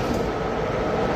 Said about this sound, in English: Oh, that's my train.